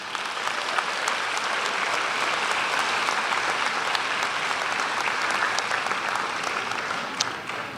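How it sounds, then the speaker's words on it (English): Audience applause at a 2024 Bard High School Early College graduation ceremony, honoring families and friends: dense, steady clapping from a large crowd that holds evenly for about eight seconds, with no talking. "So a round of applause for the families and friends."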